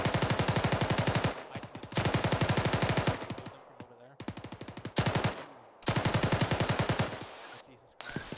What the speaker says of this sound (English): There's somebody shooting from the west and I cannot find him.